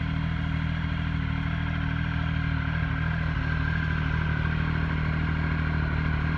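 A 2001 Triumph Speed Triple 955i motorcycle engine runs steadily nearby, giving a constant, even droning hum with a low mechanical clatter and no change in revs across the whole stretch.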